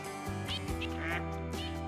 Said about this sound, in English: we got ducks landing on top of us